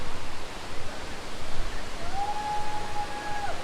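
Deojhar waterfall, a hidden natural waterfall in Odisha, gives a steady broad rushing roar close by, with a thin whistle-like tone rising briefly near the end.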